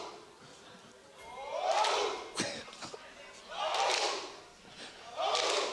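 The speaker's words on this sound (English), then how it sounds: "team fighting once more as Roman warms up the crowd once again." Esports arena crowd at a League of Legends match being warmed up, rising in waves of loud cheering and chanting three times, with a couple of thumps between surges and a caster talking over it.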